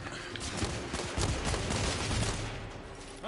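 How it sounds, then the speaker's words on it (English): Heavy gunfire erupts in The Order: 1886, a dense, loud fusillade of overlapping rapid shots and bursts filling the whole few seconds without pause. "I'm under heavy fire!"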